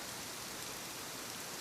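Steady rain falls as an even, dense hiss with no variation, close and continuous, with no other sounds present.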